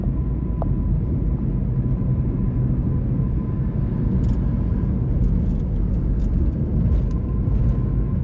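Steady road rumble from inside a car being driven along a road in Indonesia, a continuous low engine and tyre drone that stays even and fairly loud throughout, with faint higher ticks above it and no talking.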